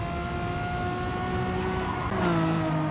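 A race car in GT Sport slides and skids, engine droning at steady pitch with tonal whine that shifts and drops near the end, loud and continuous with no talk.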